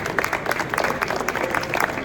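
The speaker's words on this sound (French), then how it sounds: "Je pense qu'on peut l'applaudir quand même pour tout le travail qu'il a fait." A crowd applauds steadily, dense clapping filling the space without pause.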